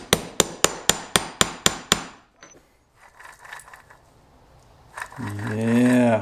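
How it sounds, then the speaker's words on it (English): A steady series of about eight sharp metal hammer blows drives a part onto a Dana 20 transfer case with a socket for an early Ford Bronco rebuild, followed by quieter clinks and handling noises, then a voice. "I'm gonna heat it up and I'm gonna pound it on with a socket so I can get it really good and on there."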